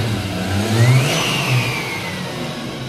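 A JZ engine fitted with a freshly upgraded alternator and a small Garrett turbo runs steadily close by, with a brief rise in revs and a faint whine over its even rumble.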